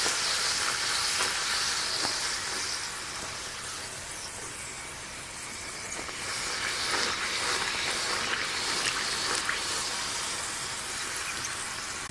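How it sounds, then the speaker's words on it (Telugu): Puris deep-fry in hot oil with a continuous bubbling sizzle and crackle, close and fairly loud, swelling slightly mid-clip, with no voices. "ఇప్పుడు పూరీల్ని మెల్లగా ఒక్కొక్కటి వేసేసుకుని వేయించుకుందాం."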